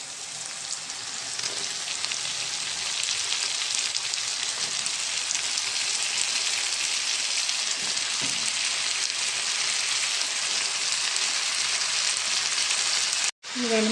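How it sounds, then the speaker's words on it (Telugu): Onions, tomatoes, dried fish and brinjals fry in a pan with a steady, loud, close sizzle that holds unbroken for nearly the whole stretch, cutting out briefly near the end. "ఉల్లిపాయలు, టమాటాలు, ఎండు చేపలు బాగా ఫ్రై అయినాయండి. ఇవన్నీ వంకాయలు కోసుకున్నాము. ఇప్పుడు వీటిని కూడా వేసేద్దాం మనం."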